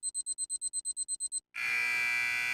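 A timer alarm beeps in a quick run of about a dozen evenly spaced, shrill pulses, then after a short gap switches to a continuous loud buzzing tone.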